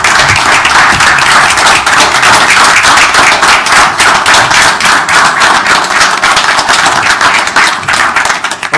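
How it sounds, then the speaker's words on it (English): A council meeting audience claps in a loud, close, continuous round of applause that holds steady for about nine seconds, with distinct individual hand claps audible throughout. "let's give them a round of applause"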